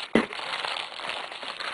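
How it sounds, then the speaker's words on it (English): Empty plastic bags crinkle continuously throughout, a soft, dense rustle close to the listener, with one sharper crackle near the start; no one speaks. "The empty plastic bags, which are many."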